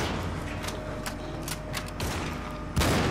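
Gunfire from the video game Cryostasis: bursts of shots and mechanical clatter over a steady background hum, with a louder thump near the end and no talk.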